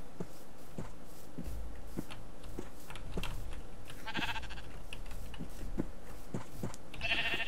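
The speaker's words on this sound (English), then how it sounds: "I did see the sheep." Sheep bleating in the game Minecraft, a couple of loud bleats standing out over a steady run of clicking and tapping game sounds.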